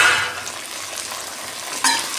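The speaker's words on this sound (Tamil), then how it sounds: "நல்லா வதக்கி விட்டுக்கணும்." White pumpkin stir-frying in hot oil with curry leaves gives a close, steady sizzle, with a brighter burst of frying near the end and no talking.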